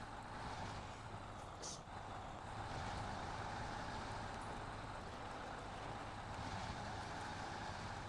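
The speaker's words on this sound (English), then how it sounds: "I had no idea the Voron trucks were this good." Voron truck in the video game SnowRunner, a steady low rumbling engine drone with a constant noisy texture, heard alone without talking.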